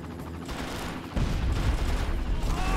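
Gunfire in the video game Far Cry rattles in a dense, continuous burst that grows louder and heavier partway through, sustained without pause for a few seconds.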